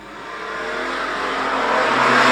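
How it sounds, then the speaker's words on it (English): Street stock race cars launching off the line at a short-track race, engines roaring and growing louder as they accelerate hard together, a dense, rising, close-up roar with no talking. "Great launch off the line for Damon Thompson."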